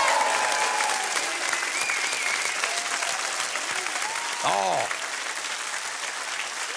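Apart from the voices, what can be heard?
audience applauding the band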